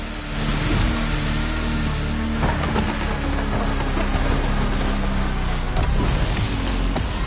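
A Hummer truck in The Crew Motorfest roars with a loud, continuous revving engine, dense and steady throughout with slight surges.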